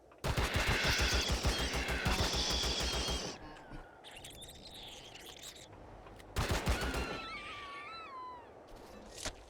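A shotgun fires rapidly in Empyrion Galactic Survival, a loud dense volley of blasts for the first few seconds, then a quieter spell with chirping game effects, then another short burst of fire.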